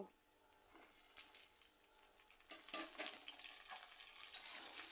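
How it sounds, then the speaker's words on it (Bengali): Broad beans and potatoes fry quietly in a pan, a soft crackling sizzle that rises gradually with light stirring scrapes, faint and close. "সিমগুলো আলুর সাথে ভালো করে মিশিয়ে নেব এভাবে আরও কিছুক্ষণ ভেজে নেব"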